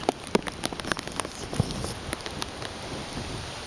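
Rain falling during Hurricane Isaac in southern Alabama, drops pattering against a plastic baggie over a camera lens, with steady rainfall hiss and irregular close taps.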